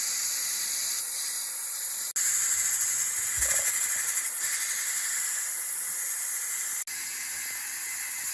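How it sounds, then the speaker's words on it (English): Steady, loud steam hiss vents from a NESCO electric pressure canner processing meatballs, a continuous broadband rush with two brief dropouts and a faint low rumble partway through. "So now that's the steam, and it will calm down a little bit."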